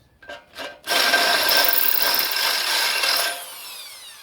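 A hand drill bores out part of a Thermoquad carburetor from a Ford XC Fairmont 351. Two short spin-up bursts lead into a steady, close, high-pitched whine of about two and a half seconds, which then stops.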